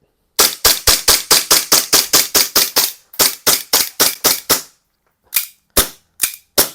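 A Double Bell M1911 mini gas BB pistol fires in sharp, loud cracks: a rapid run of about fourteen shots, a pause, then seven more, then four spaced shots, with no talking.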